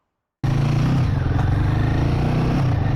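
A Royal Enfield Guerrilla 450 single-cylinder 450cc motorcycle engine starts abruptly and idles with a steady, thumping pulse, close and loud, with a mechanical clatter over the low exhaust beat.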